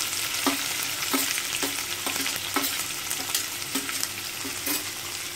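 Onions with black chickpeas and green chillies frying in a pan, a constant close sizzle broken by regular spatula taps and scrapes about every half second, no voices.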